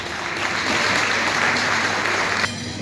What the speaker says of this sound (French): je vous invite à applaudir